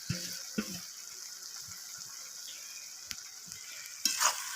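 Cabbage ghonto with fish head is stirred in a pan, giving soft scraping strokes and a few sharp utensil knocks over a low background sizzle, with a louder clatter near the end.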